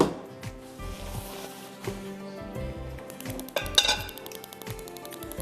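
A metal pan is set out on a kitchen counter for cooking, with clinks and knocks of cookware and utensils coming close together in a quick string, and a brighter clatter near the end.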